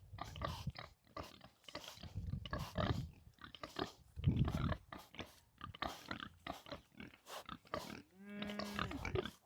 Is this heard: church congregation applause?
no